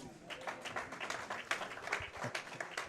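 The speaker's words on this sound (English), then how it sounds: "You could hear the crowd's reaction." Crowd at a bowling tournament final in New Mexico reacting after a spare, a continuous wash of clapping and cheering with scattered louder bursts and some voices mixed in.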